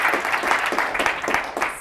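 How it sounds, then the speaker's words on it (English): Audience applause at a tech conference talk, a brief burst of clapping with distinct pulses from a smaller group of hands, close and moderately loud. "Can we give him a round of applause?"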